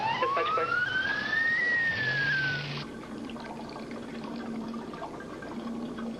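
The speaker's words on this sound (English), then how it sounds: "Okay, Misty, we're dispatching for an ambulance now." An ambulance siren sweeps upward in a single long wail that rises and then falls off, loud and close at first, before it cuts out and leaves a quieter background hum.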